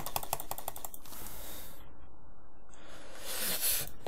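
Rapid, dense clicking on a computer keyboard or mouse during gaming, loud at first, then thinning out and fading before a brief burst near the end.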